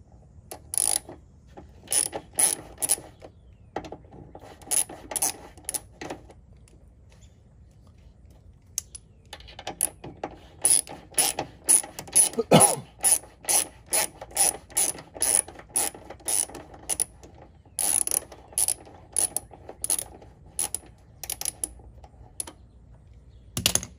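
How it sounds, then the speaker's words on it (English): A part of a Cadillac CTS Coupe vertical door kit being removed with a number 6 Allen wrench, rapid ratcheting clicks in bursts with short pauses, close and without talk. "we need to take this out. And this is going to be a number 6 Allen's wrench"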